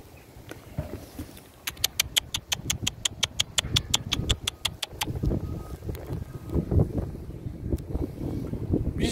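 Strong, gusty wind buffets the microphone at an open-air pigeon market in Istanbul, a steady low roar with rapid rattling flutter in the first half and sustained blustery rumble throughout.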